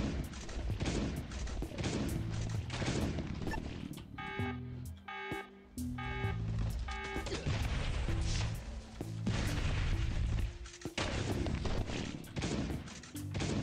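Rapid gunfire, including shotgun blasts, rattles through a wave-based fight in the mobile survival game Last Day on Earth: Survival, dense and continuous with electronic tonal beeps mixed in.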